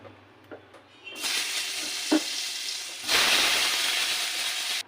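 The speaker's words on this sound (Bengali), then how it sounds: "সেই বেগুনগুলো আমি একটু ভেজে নেব" Eggplant pieces frying in a pan, a steady hiss of sizzling oil that jumps louder as more pieces go in, with a few light clinks of a utensil.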